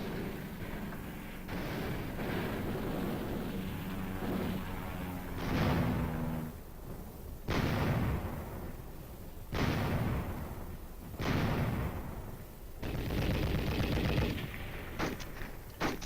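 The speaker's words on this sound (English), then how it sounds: "Again and again, the aircraft came in to hit with bombs, bullets, and rockets." Aircraft attack in the Korean War with bombs, bullets and rockets: a sustained roar of gunfire broken by repeated heavy explosive blasts, loud and booming, from an old wartime newsreel soundtrack with no talking.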